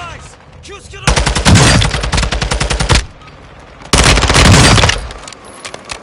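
Rapid automatic gunfire from the Warzone 2.0 video game rattles out in two loud sustained bursts, each about one to two seconds long, separated by a brief lull.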